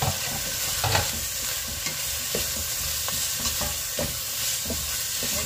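Cabbage is stir-fried with leftover ramen in a pan, giving a continuous close sizzle under repeated scraping and clattering stirs, with no speech.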